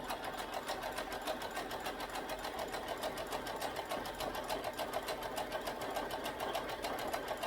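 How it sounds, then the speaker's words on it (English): A Brother SE1900 embroidery machine stitches a design directly onto a baby onesie, its needle running in a steady, rapid, even mechanical rhythm that stays close and constant throughout with no talking. "move my foot over, little presser foot, and we're gonna stitch this up"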